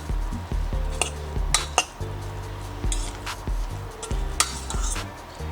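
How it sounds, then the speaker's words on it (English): Fork fluffing a pot of freshly cooked white rice, with light repeated scraping and tinny clinks of metal against the pot, close and steady with no talking. "you're going to use a fork, not a spoon, to fluff your rice up"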